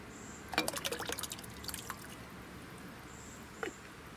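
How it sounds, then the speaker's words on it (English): Canned crushed tomatoes are poured into a crock pot, giving a brief burst of wet glugs and plops followed by a couple of faint later drips. "I'm gonna add the crushed tomatoes"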